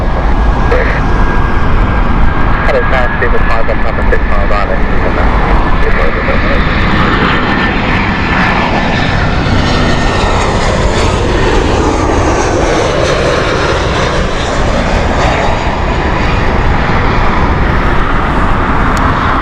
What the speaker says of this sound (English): Here we go, baby Airbus.